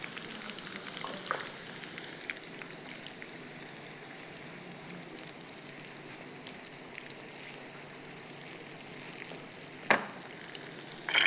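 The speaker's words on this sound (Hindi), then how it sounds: "ये प्याज हमारी फ्राई हो रही है।" Onions fry slowly over a low flame with a soft, steady crackling sizzle close by, broken by a sharp clatter near the end.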